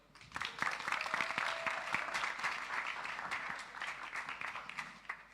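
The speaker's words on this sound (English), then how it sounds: "Ladies and gentlemen, another round of applause, please, for the magnificent Kayla Haley." Audience applause at a W3Node conference, a moderate burst of clapping that swells and then holds steady, heard from a distance and fairly quiet.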